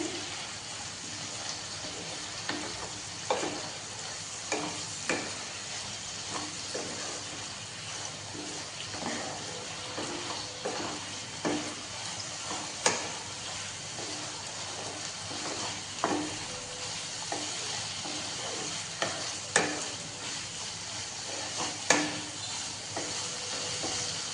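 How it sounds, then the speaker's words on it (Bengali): Poppy seed paste is sautéed with ridge gourd and potatoes in a pan, giving a soft, continuous sizzle with faint, scattered stirring clicks throughout and no voices. "এক থেকে দেড় মিনিট সবাই একটু কষিয়ে নিচ্ছে"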